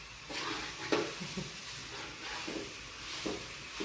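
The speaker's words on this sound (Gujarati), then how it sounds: "હલવામાં ઘી નાખ્યું ને અટાણે હલાવે" Halwa with ghee being stirred in a pan: a steady soft sizzle with a few scraping stirs and spoon knocks, close and moderately loud, no talk.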